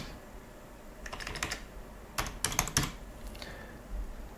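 Keys on a computer keyboard are tapped to enter a Windows command, in short clustered bursts of quiet clicks with brief pauses between, close and alone.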